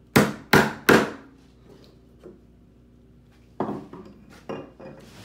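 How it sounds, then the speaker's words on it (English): Hand-chopping a mortise in wood with a chisel and mallet: three sharp, loud strikes in quick succession, then a softer tap and a few more scattered blows. "learning how to chop a mortise by hand."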